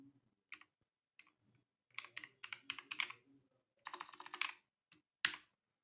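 Keys clatter in quick irregular bursts of typing, with short pauses between flurries; nearby and fairly quiet, no voices.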